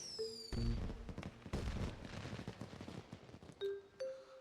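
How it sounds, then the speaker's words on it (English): Fireworks launched from a cloud cannon in the video game Pokemon Pokopia, fired in quick succession as a loud burst of booming, crackling explosions with bright chiming tones at the start and end. "And that is the effect of the new cloud cannon on fireworks."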